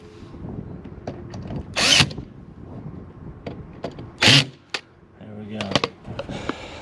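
A cordless drill set to low torque drives screws while working on a hot tub, with two loud, short whirring bursts standing out over background handling noise, a few clicks and quiet talk.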